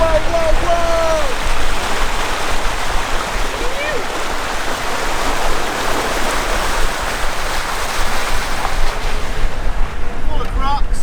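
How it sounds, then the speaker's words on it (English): A 4x4 vehicle pushes through a deep water crossing on a track in Queensland's Mackay region, with a continuous loud rush and splash of water throughout and a brief voice near the start. "Got an insane water crossing."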